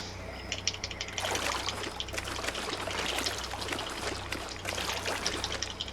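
Water being collected in the game Fallout 76, a steady trickling, pouring flow that starts after a second and runs on at moderate level over a low hum, with no talking.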